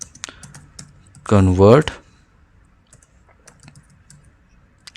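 Keys on a computer keyboard tap in scattered, light clicks near the microphone, with a short spoken word partway through and quiet gaps between keystrokes.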